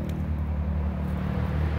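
Road traffic passes beside an abandoned old house in an outdoor setting: a steady, low, continuous rumble of vehicles, loud and unbroken in the background.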